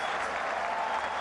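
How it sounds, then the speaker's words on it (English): A cricket match crowd roars and applauds in a steady, dense wash of clapping and cheering, loud and sustained through the whole moment, with no speech over it. "There'll be a huge roar from the crowd."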